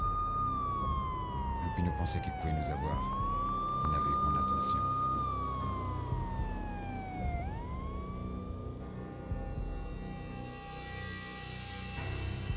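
Police sirens in the video game Max Payne on PS2 wail in long rising and falling sweeps as they draw near, loud and continuous over a low rumble, with someone speaking over them.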